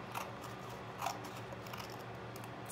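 Scissors snip through paper while cutting a suitcase portfolio, a few soft crunching cuts at irregular intervals over a steady background hiss, close and quiet.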